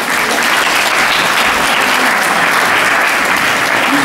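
Steady, dense audience applause fills the hall at an award ceremony of a Ukrainian children's ensemble festival, loud and continuous with no voices over it.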